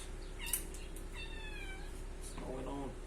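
Cat meowing inside a food trailer during rubber coin floor installation, a couple of rising, drawn-out meows at moderate distance over steady hum and room noise, with a person talking nearby.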